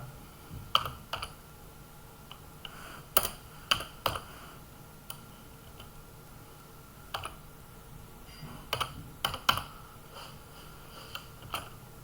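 Python code is tapped out on a computer keyboard in irregular bursts of crisp key clicks, some quick clusters and some isolated strokes, close and fairly quiet with gaps between.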